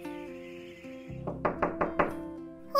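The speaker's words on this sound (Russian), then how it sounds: "Я постучал в дверь." Four firm knocks on a wooden door, evenly spaced and close, come over a soft background music bed in an animated cartoon scene.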